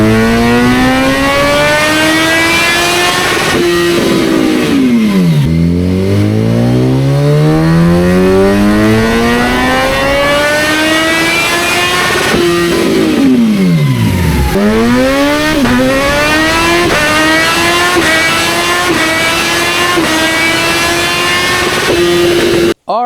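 A 2025 Kawasaki Z900 motorcycle on a dyno for a tune, its engine roaring loud and close through repeated full-throttle pulls that climb steadily in pitch, then drop sharply and climb again.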